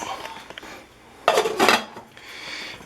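A metal lid clatters down onto a pot of three-bean chili with cayenne pepper, a short loud clank and rattle on its own, with quieter kitchen clinks around it.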